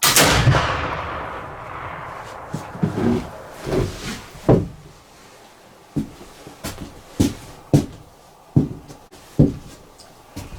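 Black powder rifle fired at a range with Goex powder: a big opening blast that rings out and decays, then a string of sharp, distant shots echoing at irregular intervals.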